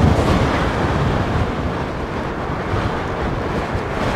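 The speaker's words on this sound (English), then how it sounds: "it looks like we've got a little bit of a headwind coming down here" Steady wind buffets the microphone while riding into a headwind down a mountain road on an Apollo Go electric scooter, a loud, continuous broadband roar with no voices.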